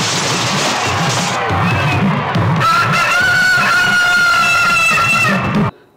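In a movie scene, a rooster crows with strained, harmonic calls over a loud, busy backdrop of crowd noise and flapping, before the sound cuts off abruptly.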